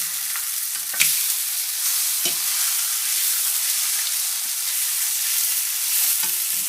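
Kippers sizzling steadily in a frying pan as breakfast, a constant bright hiss broken by a few low clunks and scrapes as the fish is turned over.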